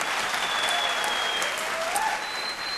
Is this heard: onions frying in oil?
no